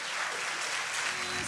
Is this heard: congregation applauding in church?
yes